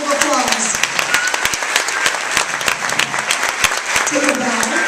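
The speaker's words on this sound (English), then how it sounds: "Give them a round of applause." An audience at a grade 7 school concert applauds loudly and continuously, many hands clapping together, with a little faint voice sound mixed in.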